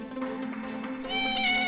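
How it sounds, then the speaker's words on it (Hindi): A cat stuck by the neck in a house gate meows in strained, drawn-out cries, close and fairly loud, rising to a higher, stronger wail toward the end. "यहाँ एक बिल्ली की गर्दन इस घर के गेट में ऐसे फंस गई कि ठीक से सांस भी नहीं ले पा रही थी।"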